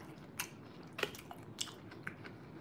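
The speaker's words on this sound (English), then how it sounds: "I normally like when my broccoli is still a little crunchy." Crunchy cooked broccoli is chewed up close during a Chinese food mukbang, giving four or five sharp, separate crisp bites and crunches spaced about half a second apart over quiet background.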